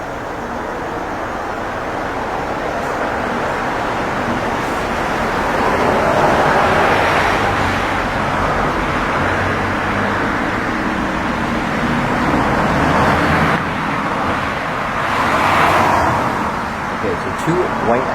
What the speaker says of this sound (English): Two white Audis just drove by.